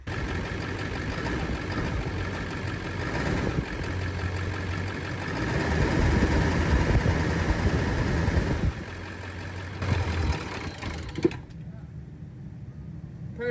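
An old smoky engine idles steadily just after being started, a constant mid-low running drone that drops slightly near the end.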